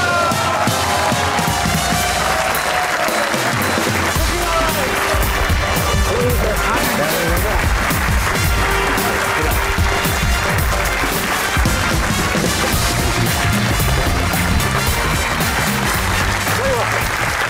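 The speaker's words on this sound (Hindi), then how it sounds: "आपकी भरपूर तालियों में one of my favourite Waqar Yunus." Studio audience applauding loudly to welcome cricketer Waqar Younis onto a talk show, dense sustained clapping with some cheering that fills the whole stretch, a voice briefly heard at the start.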